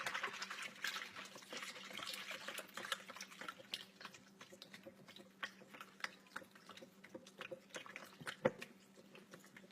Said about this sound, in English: Now we're going to whisk this together real quick.